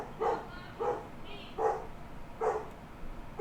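A dog barks four times at a steady, unhurried pace from a moderate distance in a quiet room while someone arrives home. There is no talking.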